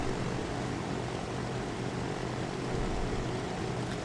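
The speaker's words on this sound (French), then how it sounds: "L'avion vole assez bas" Low-flying propeller airplane in the Transport Fever 2 game, a steady broadband engine drone at moderate level running continuously without pause.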